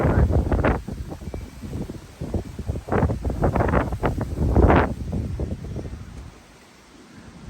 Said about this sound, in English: Until the wind gust goes by.